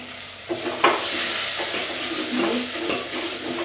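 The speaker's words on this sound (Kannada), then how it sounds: "ಸ್ವಲ್ಪ ಹಾಕ್ಕೊಂಡು ಮತ್ತೆ ಫ್ರೈ ಮಾಡ್ತೇನೆ" Masala paste sizzling and frying in a pan for a horse gram sambar, stirred with steady scraping strokes, close and continuous with no talk.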